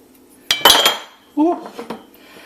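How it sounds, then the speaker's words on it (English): Cookie batter for coconut mango cookies being mixed in a bowl after vanilla extract goes in, heard as a few loud close clinks and scrapes of a utensil against the bowl in two short bursts, with no talking. "just continue mixing together"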